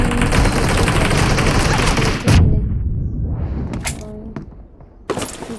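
Loud automatic gunfire in the mobile shooter BGMI during a team deathmatch, a sustained rattling burst for about two seconds ending in a heavy thump, then quieter scattered shots and another sharp burst near the end.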